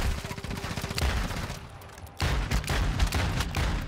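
Fast automatic gunfire in the shooter Warzone, a loud rattling stream of shots that pauses briefly, then resumes in heavy bursts close by.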